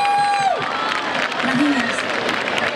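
Audience applause and crowd noise at an outdoor village festival orchestra show in Galicia, steady and dense throughout, mixed with voices over a lingering musical tone.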